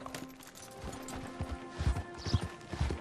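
Horse hooves clopping at a walk in the Red Dead Redemption 2 video game, an uneven series of soft thuds growing busier and louder toward the end over a steady ambient game soundscape.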